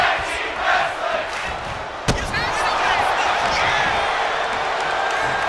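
Wrestling arena crowd roaring and cheering steadily throughout, with a sharp ring slam thudding once near the middle; a dense, loud wash of fan noise.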